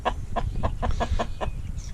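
Chickens clucking in a steady, repeated rhythm, about seven short clucks over a low background rumble, close by.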